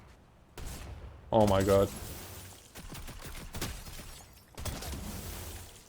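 Gunfire crackles in the roguelike video game Statham Shelter as several sharp bursts and impacts ring out across the stretch, with a man exclaiming in between.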